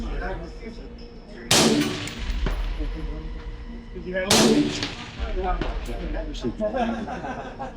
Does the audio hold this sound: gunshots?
yes